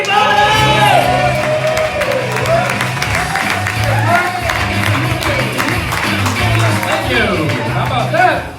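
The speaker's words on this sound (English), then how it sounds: "Huge round of applause for Jake Head, everybody!" A comedy club audience in New York applauds and cheers for a comedian, with whoops and shouts over steady clapping. Loud crowd voices carry through the whole stretch.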